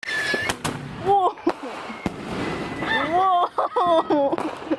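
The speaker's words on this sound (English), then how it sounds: "We're gonna blow some Of our own our own big fireworks up." Backyard fireworks bursting in sharp, loud pops at irregular intervals, mixed with excited shouts and chatter from people nearby.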